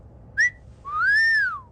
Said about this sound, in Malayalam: വിസിൽ വിഴുങ്ങിയ